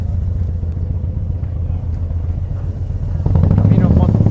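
A motorcycle on the Camino de Santiago near O Cebreiro rumbles nearby, its engine drone swelling louder toward the end, with voices talking over it.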